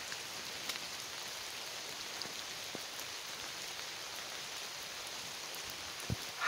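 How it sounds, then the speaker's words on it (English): Steady rain pattering on tree leaves overhead, a dense even hiss of drops with a few louder individual splats, close and continuous with no talk. "can you hear the raindrops slapping on the leaves?"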